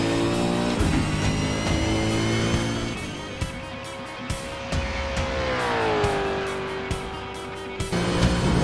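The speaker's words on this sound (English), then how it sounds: "let's go for a lap of Phillip Island in the TEDCO Racing Supercar Ford" A TEDCO Racing Ford Mustang GT Supercar laps Phillip Island circuit in a racing simulator, its engine droning loudly through rising and falling revs, with gear changes and brief pops between shifts.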